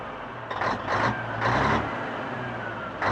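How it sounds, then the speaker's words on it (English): A Peterbilt 359 truck's diesel engine is given short bursts of throttle, several rising revs over a steady idle, heard close and moderately loud. "a little bit of diesel throttle"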